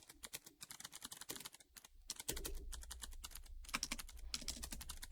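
Fast, continuous typing on a computer keyboard, a dense run of sharp key clicks in uneven bursts with brief pauses, close and clear, with a low hum joining partway through.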